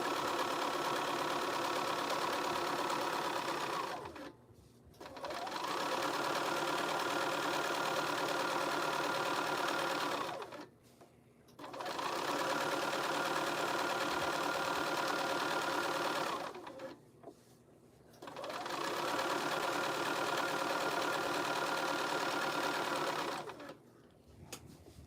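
A sewing machine stitches fabric in steady runs of several seconds each, with short pauses between them, a close, continuous mechanical whir.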